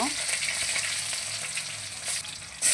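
Onion sizzles steadily in hot oil with mustard seeds and chana dal, a close, continuous frying hiss with faint stirring and a brief louder crackle at the end.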